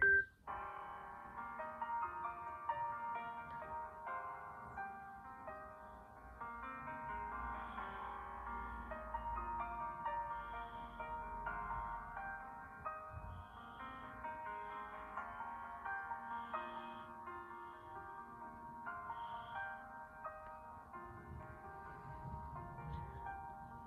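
A ringtone playing on an Android phone: a steady, layered melodic tune that continues for over twenty seconds at moderate volume, with no talking.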